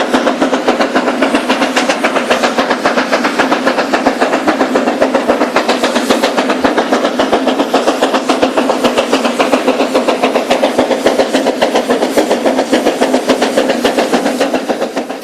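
A train on a former forestry railway in China climbs toward a summit with a banking engine, its steam locomotive chuffing in rapid, even beats alongside a constant clickety-clack, loud and close for the whole stretch.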